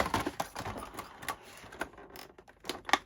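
A blade cuts through a tough cardboard shipping box for a 1/8 scale Ford GT model kit, making short, ragged scraping and tearing bursts in an uneven rhythm, close and fairly quiet.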